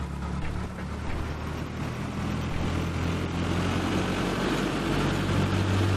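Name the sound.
Cessna 172 engine revving to 1500 RPM in video game FSX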